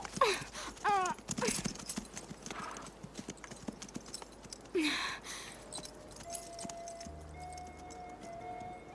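Horse hooves clip-clop steadily, loud and close, while the horse neighs and whinnies several times, one of them sharp and high. Keys jangle briefly, and a faint mechanical hum runs underneath near the end.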